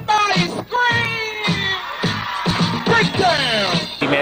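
Crowd screaming and whooping in response to a rapper's call, a loud sustained roar of many voices with repeated surges of yells throughout.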